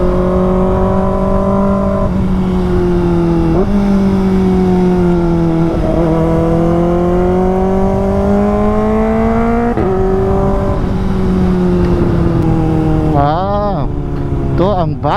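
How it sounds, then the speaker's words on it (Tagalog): A Kawasaki ZX-4RR motorcycle engine howls at high revs while riding, its tone rising and dipping through gear shifts, loud and close with wind rush and a voice heard briefly. "Ang ingay ng motor natin."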